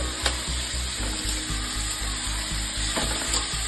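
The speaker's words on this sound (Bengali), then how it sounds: "পেঁয়াজ কুচি দিয়ে এবার আবার একটু নাড়াচাড়া করে নিলাম" Chopped onion and beans stir-fried in a pan for mixed Maggi noodles, giving a continuous close sizzle broken by a regular series of spatula scrapes and taps, each about half a second apart.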